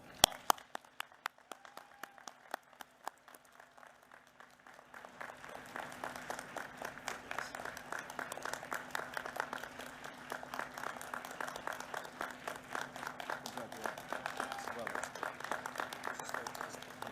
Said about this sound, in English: Could everyone please recognize President McRobbie with a great big round of applause.